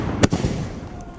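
Firecrackers go off with one loud, sharp bang, then a couple of fainter pops close behind it.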